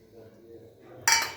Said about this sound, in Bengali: ডিম ফাটিয়ে দিচ্ছি